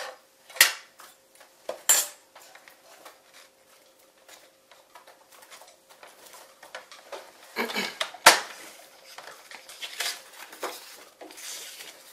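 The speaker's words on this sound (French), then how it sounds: "je vais couper un carré de 9 cm par 9 cm" A 9 cm by 9 cm paper square being cut. Quiet, close, scattered snips and crisp ticks of paper and tools come in irregular bursts, with a couple of louder taps set against near silence.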